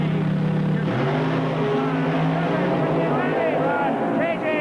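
Two drag racing cars leave the line at a 1979 NHRA World Championship Series meet in Edmonton, a loud sustained engine roar with rising pitch that fills the whole clip, with a voice talking over it.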